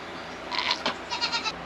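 A Nigerian goat bleats in a springtime homestead garden, a few wavering calls in close succession at moderate volume with no talking.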